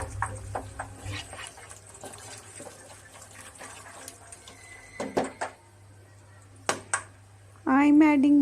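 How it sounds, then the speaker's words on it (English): Water poured into a cooking pan of peas: a trickling, splashing flow sits among scattered kitchen clatter and a few sharp knocks, and a brief harmonic, voice-like tone enters at the very end. "I'm adding water so that the peas don't remain raw."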